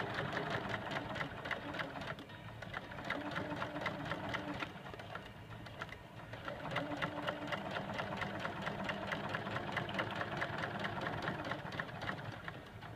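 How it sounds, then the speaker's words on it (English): A sewing machine stitches shorts in a straight line and then a gentle curve, running with a steady, close, rapid mechanical whir and brief dips in pace, with no talking. "put it in your machine, start sewing, do a little back tack there, and then just sew a straight line down"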